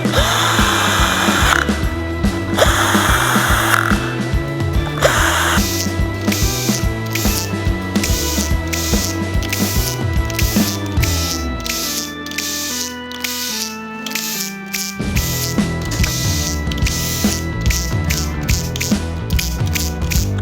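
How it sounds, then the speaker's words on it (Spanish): An electric drill with its clutch set whirs and ratchets loudly and continuously, tightening bolts into aluminium on a Peugeot 3008 1.5 HDi DV5 engine, its motor pitch stepping up and down through repeated tightening bursts. "Tenemos el taladro con el freno puesto."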